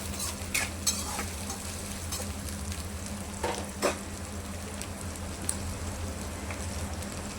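Sliced onions and green chillies sizzle steadily in an oil-filled pan for tomato thokku, with a close, continuous fry broken by a few scraping stirs of a spatula and no talking.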